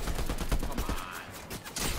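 Rapid gunshots ring out in a Fortnite match, with several close, sharp bursts repeating across the moment.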